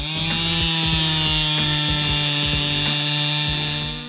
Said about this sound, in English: This powerful chainsaw took down a large tree weighing more than 400 kilograms.